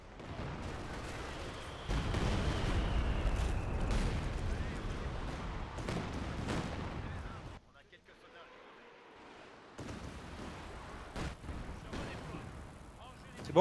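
Canister shot firing in the Company of Heroes 2 video game: heavy, booming blasts and broadband rumble fill the first half, drop away briefly, then return with sharper cracks amid continuous battlefield noise.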